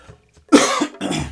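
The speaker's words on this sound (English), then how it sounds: "I've just got a dry cough now" Two dry, harsh coughs in quick succession, close and loud, with a brief pause between them.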